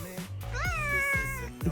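A cat gives a single drawn-out meow, clear and close, with faint household noise and brief vocal sounds around it.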